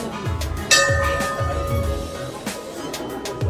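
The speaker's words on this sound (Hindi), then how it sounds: "चारों तरफ घंटियाँ ही घंटियाँ हैं, घंटियाँ ही घंटियाँ, और बहुत बड़ी बड़ी घंटियाँ भी हैं।" Bells ring at a Hindu temple, with one bright metallic clang standing out amid overlapping dings and clinks and a busy, low rumbling background.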